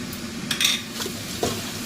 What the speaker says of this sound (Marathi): मिरची पावडर आणि कांदा लसूण मसाला थोडंसं आपण परतून घ्यायचं.